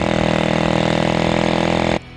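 Small glow or nitro engine of a radio-controlled model plane running close by with a steady buzzing idle, then cutting out abruptly after about two seconds.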